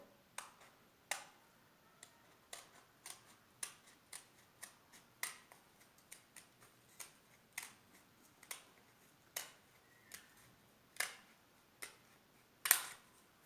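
Scissors cutting through a folded stack of paper to make heart shapes: a steady series of sharp, close snips about one every second or less, with no voices.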